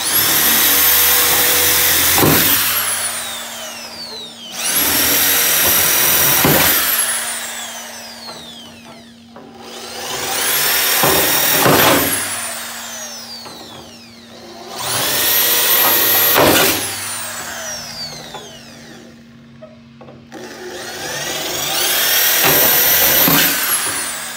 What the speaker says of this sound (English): Now we can punch all of the holes in here, okay? We're going to go right through both layers.